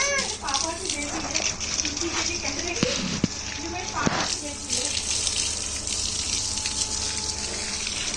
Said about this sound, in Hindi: मैं पानी डाल रही थी ना पौधों में